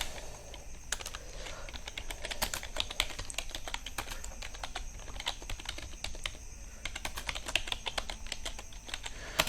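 Rapid typing on a computer keyboard in Microsoft Word, dense clicking keystrokes close up, continuous with brief irregular gaps and no talk.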